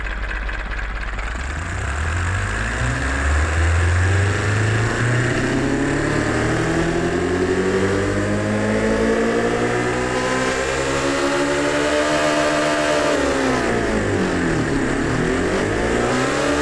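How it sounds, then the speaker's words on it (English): Simulated Honda K20A naturally aspirated engine in the Automation car game revving up steadily, its pitch climbing and falling in a smooth, loud, continuous tone with no other sounds. "So it sounds like a Honda Civic equipped with a K20A."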